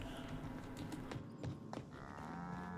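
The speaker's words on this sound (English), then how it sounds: "I forgot we had cattle on board" Cattle on board a ship in the video game The Outer Worlds, heard as a low, drawn-out moo near the end, over a faint background with some soft thumps.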